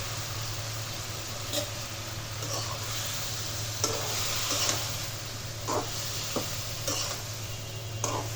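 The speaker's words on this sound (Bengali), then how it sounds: "আমি আস্তে আস্তে সব উপকরণ দিয়ে দিচ্ছি। এটা একটু মিক্স করে নিই।" Chalta sour-spicy pickle ingredients stirred in a pan, a steady sizzling hiss with repeated scraping strokes of the spoon, close and continuous throughout.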